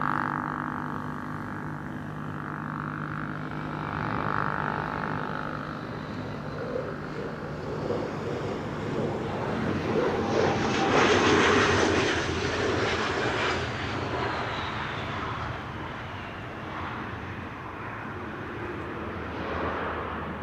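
Finnair Airbus A350 jet climbing away from Amsterdam Schiphol, a broad engine roar that swells toward the middle and slowly fades into the distance with no talk.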